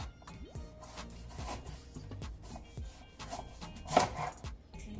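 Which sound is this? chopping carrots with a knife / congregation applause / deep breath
chopping carrots with a knife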